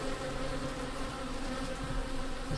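A hornet buzzes near bees around a hornet trap outdoors, a steady, continuous insect drone with a droning hum blended over a constant background, fairly close and unbroken.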